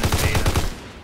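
Rapid automatic gunfire in Call of Duty WWII plays as a quick, close burst of about eight evenly spaced loud shots, then trails off.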